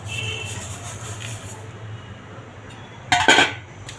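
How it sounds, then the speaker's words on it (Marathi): Roasted sesame ladoo ingredients, including crushed peanuts, tipped into a metal vessel: after a quiet stretch with a low kitchen hum comes a brief, bright clatter and clink of the vessel at close range. "हे भाजलेले सर्व जिन्नस मी याच्यात टाकणार आहे"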